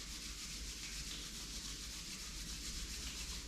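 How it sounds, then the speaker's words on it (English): Palms rubbed together during a yoga session give a steady, continuous close-up friction hiss with no pauses, quiet and alone. "Rub your palms."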